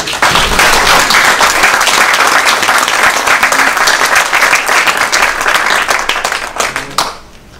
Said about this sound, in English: and you can applaud here.